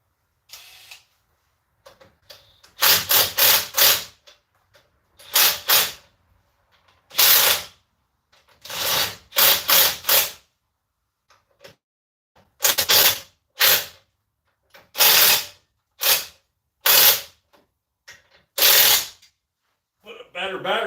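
Cordless impact gun tightening winch bolts on a Jeep in a home garage, firing in repeated loud hammering bursts of about a second each, separated by short silent gaps.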